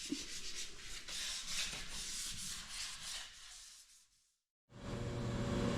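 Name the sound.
sanding car parts for a 1932 roadster build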